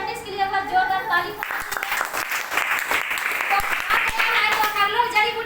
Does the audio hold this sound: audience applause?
yes